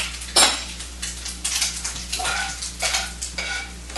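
Lardons sizzling in a pan as a metal utensil stirs and scrapes them, with sharp clinks and repeated bursts of scraping over a steady frying hiss, close and loud.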